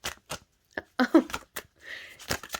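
Tarot cards spill from a deck in a few quick, soft papery slaps and flutters, close by and quiet, separated by short pauses.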